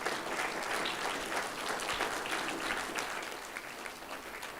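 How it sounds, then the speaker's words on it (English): Audience applause honoring parents at a graduation ceremony, a dense, steady wash of many hands clapping at once that carries on for several seconds and tapers slightly toward the end. "Can we please give them a round of applause?"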